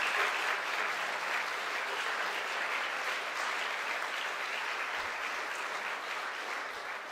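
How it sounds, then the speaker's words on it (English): A large audience claps warmly for Joe at a Saskatchewan Polytechnic ceremony marking his major gift, a dense, steady wash of applause that carries on for several seconds and tapers only slightly near the end. "Another applause for Joe, please."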